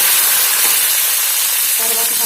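Curry leaf sprigs hit hot oil with browning dal as tempering for raw mango pulihora rice, giving a loud, continuous crackling sizzle close up, with a brief voice-like tone near the end.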